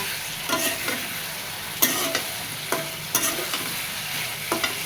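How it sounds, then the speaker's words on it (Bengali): Fish curry sautéing in a pan with a ground paste of onion, green chili and cumin plus spices, giving a steady sizzle broken by several scraping stirs of a spoon, close and fairly loud with no voices. "পেঁয়াজ কাঁচামরিচ জিরে একসাথে বাটা দিয়ে মশলা দিয়ে এবার ভালো মতো তরকারি কষাই নেব"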